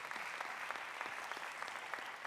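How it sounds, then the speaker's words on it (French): Church congregation applauding, a fairly quiet, dense patter of many hands clapping steadily throughout, heard at a distance with no talk over it. "On acclame Jésus."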